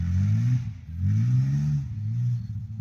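A Ford engine fitted with VW injectors revs in three strong pulls, each rising then falling back, loud and close with a deep throaty rumble and no talking.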